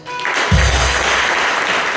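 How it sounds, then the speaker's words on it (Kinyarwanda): A church congregation at a gathering in Uganda breaks into loud, dense applause that swells after a brief start and holds steady, with a low rumble mixed in. "mumukomera amashyi"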